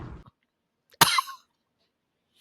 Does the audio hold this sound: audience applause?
no